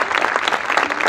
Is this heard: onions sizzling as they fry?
no